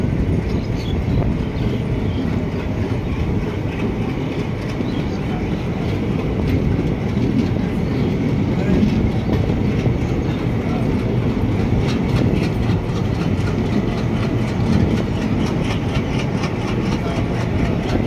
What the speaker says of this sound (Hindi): डीजल का है, डीजल लोकोमोटिव का